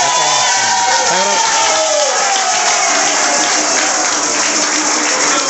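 An auditorium audience gives an ovation at a cultural-movement recognition event: dense, sustained applause with cheering and crowd voices, loud and continuous throughout, with some talk or shouts mixed into the roar.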